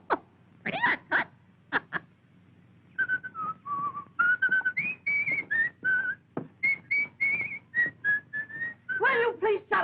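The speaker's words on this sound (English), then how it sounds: "I can't whistle at night because you want to sleep." A man whistles a tune indoors in a 1938 film, clear pitched notes in short phrases with pauses, starting with a few breathy bursts and running steadily to the end.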